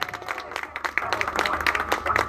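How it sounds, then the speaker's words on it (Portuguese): Scattered clapping from a small group at a home birthday party for a mother, fairly light and uneven, mixed with cheering and voices talking over it. "Uma salva de palmas, pessoal!"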